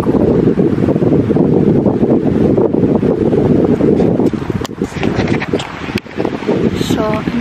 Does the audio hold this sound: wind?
yes